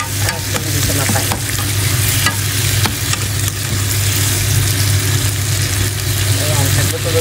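Tomatoes sauté in a pan for a bitter melon (ampalaya) dish, giving a steady, loud sizzle that runs the whole time, with occasional stirring scrapes and faint background noise.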